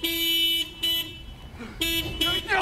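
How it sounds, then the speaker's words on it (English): A car horn honks in several short blasts with brief gaps, loud and close, with a little background noise between the toots. "Yeah, great, and it's honking."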